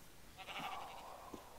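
A Minecraft sheep bleats once, a short wavering video game animal cry, fairly quiet and alone.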